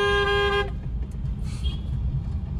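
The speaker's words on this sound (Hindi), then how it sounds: "हॉर्न" A car horn gives a single short loud honk during a driving lesson, followed by the low hum of the car moving along the road.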